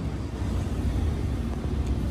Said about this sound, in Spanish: ¿veis cómo suena? Inconfundible sonido, V4, 4 cilindros